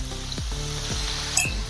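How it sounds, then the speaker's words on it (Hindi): Kundru, or ivy gourd, frying in oil with salt in a pan, a steady close sizzle with a brief clink of utensil near the end. "डेढ़ चम्मच मैंने इसमें तेल डाला है। इसमें डाल देंगे अपने कुंदरू।"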